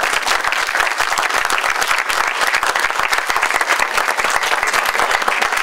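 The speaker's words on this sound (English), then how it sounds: "let's give our candidates one round of applause" Audience at a Board of Education candidate forum breaks into steady, dense applause for the candidates, many hands clapping at once in a sustained, loud roar with no talk over it.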